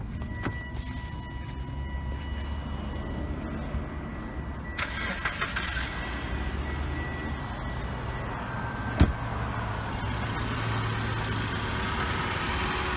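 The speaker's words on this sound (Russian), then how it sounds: "Двигатель заведен," A car engine is started, with a brief cranking catch partway through, then the motor settles into a steady low idle that hums on evenly underneath.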